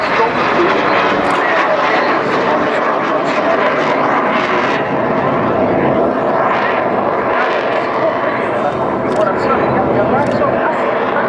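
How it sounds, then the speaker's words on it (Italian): Frecce Tricolori jet aircraft flying past at reduced speed with landing gear down during an air show, a loud sustained roar heard outdoors beneath steady commentary. "Carrello fuori significa aeroplano in configurazione d'atterraggio, velocità nettamente ridotta, poco meno di 300 km orari per questo."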